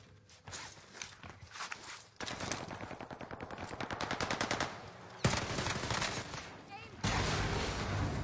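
Gunfire in Warzone, with a steady rapid automatic burst pulsing through the middle, sharp loud shots near the end, and footstep-like shuffles mixed in. A voice speaks briefly.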